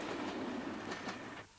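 A train running along the coastal railway by Loch Carron toward Plockton in the Scottish Highlands gives a steady rumble with faint rail clatter, then fades out near the end.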